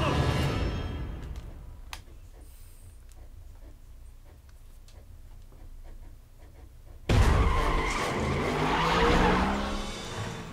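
In Need for Speed: The Run on PS3, a car skids and its tires squeal amid engine noise, with quieter clicks and knocks midway before a loud burst of engine and tire roar surges back in.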